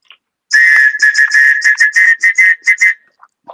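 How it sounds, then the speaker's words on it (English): A loud, shrill whistle blown in a quick run of about a dozen sharp blasts, close by, then it stops. "Ooh, a whistle."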